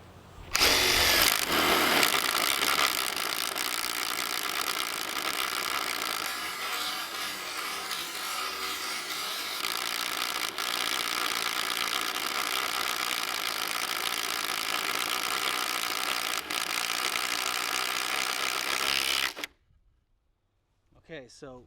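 Ridgid subcompact cordless drill driving a 1 3/8 inch paddle bit through a 2x6 board, a steady loud whirring grind lasting nearly twenty seconds before stopping abruptly, close and continuous.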